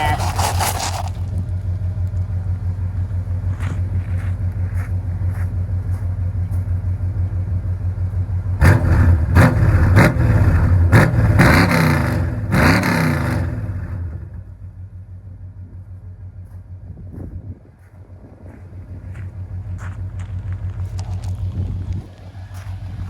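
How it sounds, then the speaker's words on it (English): An El Camino engine with long-tube headers idles with a low steady rumble, then revs several times in quick, snappy bursts before settling back to idle; some faint talk in the background. "I'm gonna see if I can get a sound clip here of these long tubes because they sound fantastic"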